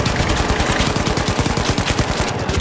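Rapid automatic gunfire rattles without a break in an online shooter game. Dense bursts of shots fill the whole stretch loudly, with no talk over them.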